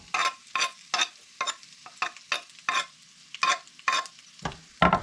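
Onions sautéed together with ribs in a pan, with about a dozen sharp, rhythmic stirring scrapes over a low background sizzle, close up and with no talking.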